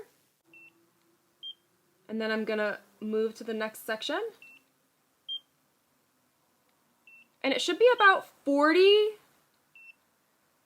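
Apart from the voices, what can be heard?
laser skin device beeping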